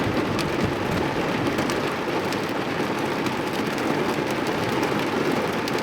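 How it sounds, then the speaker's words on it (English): Heavy pouring rain roars steadily and loudly throughout, a dense unbroken wash of drops outdoors in open country with no voices. "Well, pouring rain"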